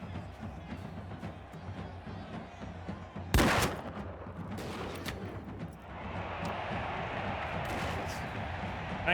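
Gunfire in Mount & Blade II: Bannerlord with a 1700s European setting, a fast crackle of distant shots and one loud close blast, then sustained battle noise and scattered reports.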